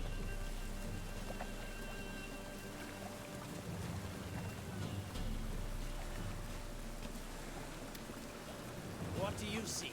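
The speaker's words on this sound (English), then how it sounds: "It's been raining for a solid 30 seconds." Steady rainfall patters continuously in The Witcher 3: Wild Hunt, a dense, even hiss of drops on surfaces that persists throughout at moderate level with faint distant rumbles.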